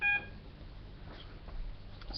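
A Schindler 330A elevator fixture's alarm button gives a short electronic beep at the very start, then only faint room hiss remains.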